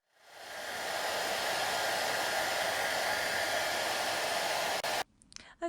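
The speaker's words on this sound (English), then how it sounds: "that was just a little snippet of me quickly drying the squishy there. I use a hairdryer sometimes" A hair dryer blows steadily and loudly on a squishy toy for about five seconds, a continuous broadband whoosh that cuts off abruptly near the end, leaving a few faint handling noises.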